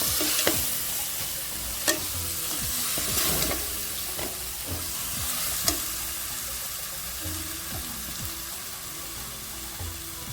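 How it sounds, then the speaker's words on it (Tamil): Tomatoes sautéing in hot oil for mushroom biryani, a steady close sizzle with a few sharp spatula taps and stirring scrapes scattered through, no talking. "தக்காளி போட்டுக்கலாம். தக்காளி நல்லா வதங்கணும்."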